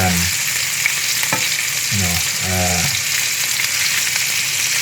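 Tilapia fillets pan-frying in a pan, a loud steady sizzle with a few brief scraping stirs of a utensil, close up with no talk.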